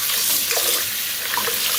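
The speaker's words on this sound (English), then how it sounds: "we are going to soak these bad boys in some water, just like this." Water running from a tap into a bowl to soak anitri beri, a steady near splash and trickle filling the whole short stretch, no talk.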